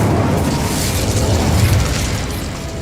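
A fire spell blast in Hogwarts Legacy erupts as a loud, sustained fiery roar and rumble lasting about three seconds, heard on its own.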